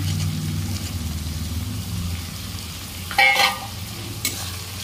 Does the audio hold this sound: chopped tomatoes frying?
yes